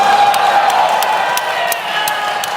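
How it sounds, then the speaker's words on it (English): A crowd cheers and claps at QuakeCon 2024 with a bright, steady roar of voices and whoops plus rhythmic clapping, loud and sustained across the moment. "Did you talk your friends into cheering for you?"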